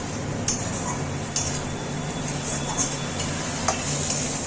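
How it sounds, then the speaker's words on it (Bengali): Onions frying with roasted carom seeds in a pan, giving a steady close sizzle broken by a few sharp utensil scrapes and clicks. "সেই জোয়ানটা দিয়ে আমি পেঁয়াজের সাথে একবারে ভেজে নিচ্ছি"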